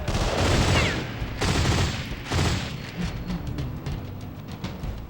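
Rapid gunfire from the video game Delta Force: Black Hawk Down crackles in loud bursts and scattered single shots, dense at first and then thinning into irregular pops.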